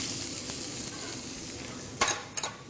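Chopped onions fry in hot olive oil in a non-stick pan, giving a steady close sizzle that swells briefly as they are stirred, followed by two sharp utensil clinks against the pan near the end.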